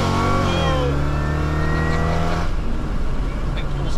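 A 700HP Cadillac CTS-V wagon revs loudly up close, its engine pitch climbing steadily for a couple of seconds before dropping back to a rough, rumbling idle.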